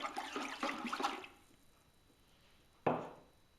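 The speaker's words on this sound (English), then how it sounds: "Let's give him a stir again because the glaze needs to be kept stirred" A pottery tankard is stirred and dipped in a bucket of liquid glaze, with soft sloshing and swirling water sounds up close, a quieter pause, then a single brief splashing dip.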